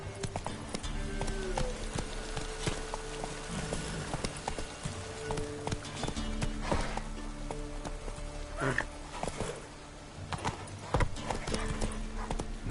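Roach, the horse in The Witcher 3 video game, gallops with rapid rhythmic hoofbeats clip-clopping close by, accompanied by a brief whinny and light ambient noise, with faint game sounds mixed in.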